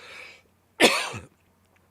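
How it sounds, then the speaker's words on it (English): A single harsh cough bursts out near the mic, preceded by a brief breathy sound and followed by quiet. "I still have a little cough."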